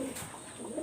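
Red-eyed Kamagar pigeons, a young pair of Pakistani high flyers, coo softly in a brief, close burst with a steady hiss behind.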